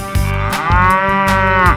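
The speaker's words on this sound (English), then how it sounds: "Cow." A cow gives one long, loud, close moo with a strong tonal drone that holds steady before tapering off at the end.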